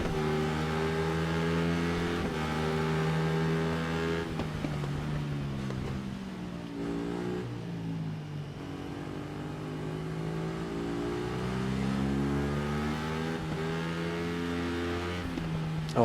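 A motorcycle engine revs up and down repeatedly in the video game Ride 3, its pitch rising and falling in sweeps, steady and loud with no voices.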